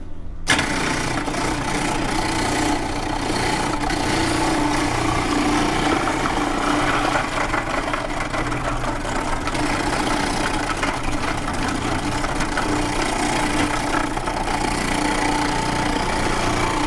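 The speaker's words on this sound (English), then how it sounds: "Now I will change the blade so that I can shred carrots, and I will use this one." Food processor shredding carrots for homemade sauerkraut, a loud continuous motor whir with grinding and chopping texture that starts abruptly and runs steadily throughout, close up with no talking.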